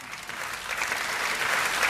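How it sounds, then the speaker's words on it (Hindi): Steady applause from the audience at a comedy poetry show fills the moment, a dense wash of clapping that holds even and slightly swells toward the end. "ताली बजाओ"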